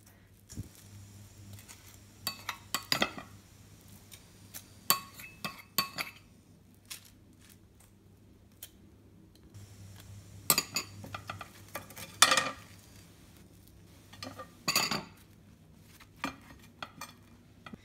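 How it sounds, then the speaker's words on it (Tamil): A knife spreads avocado onto toast on a plate, producing scattered soft scrapes and occasional clinks of metal against dishware, close and quiet with gaps between strokes and no talk. "இப்போ நெக்ஸ்ட் டோஸ்ட்லேயே நம்ம வந்து இந்த அவகேடோவை ஸ்ப்ரெட் பண்ணி விட்டுலாம்"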